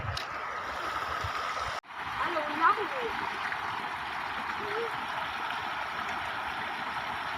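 Heavy rain falls in a village while water rushes past in a full flow, a steady, dense wash of noise with a voice speaking briefly over it.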